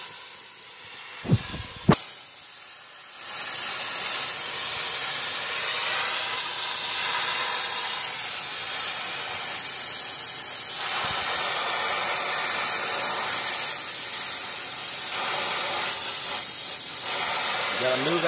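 Steady roaring hiss of a torch flame heating a pipe in a tight attic during air conditioning installation, starting after a couple of sharp clicks and running loud and continuous to the end.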